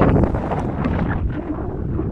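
Strong wind buffets the microphone in a loud, steady rumbling roar with gusty surges throughout.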